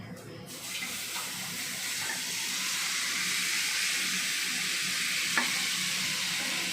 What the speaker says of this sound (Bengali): পাঁচফোড়নটা দিয়ে একটু ভাজা ভাজা হলো